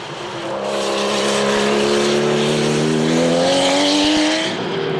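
Classic race cars at the 2010 Le Mans Classic, with a Capri pushing through 935 Moby Dicks: a loud, sustained engine roar whose pitch climbs steadily as cars power past on track, with no speech.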